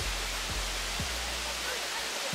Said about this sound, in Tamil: ஆக்சுவலா இதுதான் அந்த வாட்டர் ஃபால்ஸ் போல.